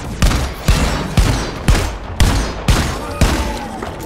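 Shotgun blasts in Deep Rock Galactic, seven loud booming shots fired at a steady rhythm about every half second, each with a sharp attack and a short rumbling tail, with no talking.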